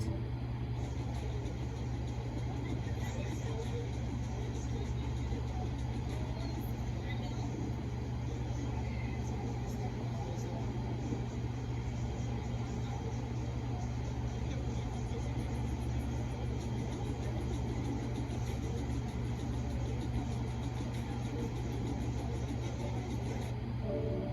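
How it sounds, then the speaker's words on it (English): Steady city street ambience on Castro Street in San Francisco, with a constant low traffic rumble and faint passing cars, distant and even throughout without clear voices. "Let's watch a short clip of Castro Street."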